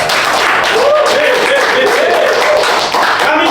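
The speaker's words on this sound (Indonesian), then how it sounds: "Tepuk tangan." A studio audience at a podcast taping claps steadily for an arriving guest, a dense continuous patter of hand claps at close range with faint voices underneath.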